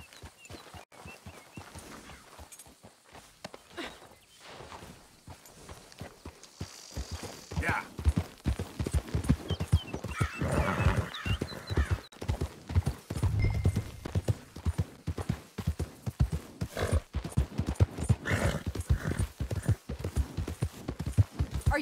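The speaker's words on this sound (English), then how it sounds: "We'll need to go on a horse." Horse hooves clip-clop steadily in Red Dead Redemption 2, a quiet walking rhythm that grows louder and denser partway through as the horse picks up pace, with game ambience underneath.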